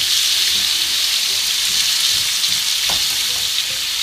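Tomato goes into a pan of hot oil already sizzling with bay leaves for a tuna marmitako stew, producing a loud, dense, continuous frying hiss close up, with faint stirring and no speech.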